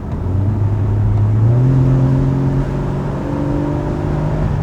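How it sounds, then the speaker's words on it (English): Porsche Cayman GTS flat-six engine with sports exhaust, running steady and loud at close range, with a brief rise in revs partway through and a constant mechanical drone, no talking. "it changes the sound of the flat six engine"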